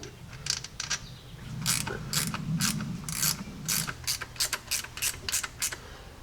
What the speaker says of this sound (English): now I'm just going to line this up to the yoke here on the transfer case and start threading in some bolts